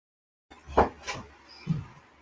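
An indoor door swings shut with a muffled knock and latch click, followed by a softer second thump, heard close and with no talking.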